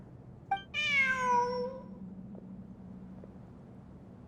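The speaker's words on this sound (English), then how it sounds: "Look, a cat." A cat in the video game Genshin Impact gives a single clear, drawn-out meow, close and alone over a low steady background hum, with a faint click afterward.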